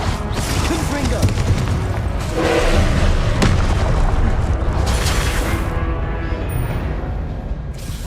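Confringo blasting-spell explosions in the Hogwarts Legacy video game: heavy, booming blasts and thuds over a dense, continuous wash of game noise, with broad bursts recurring throughout.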